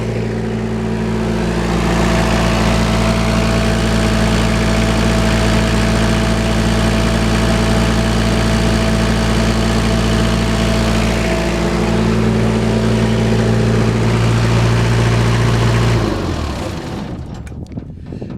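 A diesel generator idles steadily in cold weather, a loud close mechanical drone with a low hum and a shift partway through, then it cuts out near the end.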